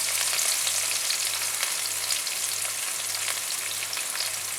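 Garlic, ginger, green chillies and capsicum fry on a high flame, giving a loud, continuous, crackling hiss close by with faint stirring underneath.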